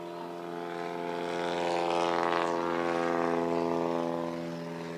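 A Badlands Traveler STOL airplane powers up for a short takeoff at a fly-in STOL competition, its propeller engine droning steadily with strong harmonic tones that swell to a peak midway and ease slightly, loud and continuous with no talk.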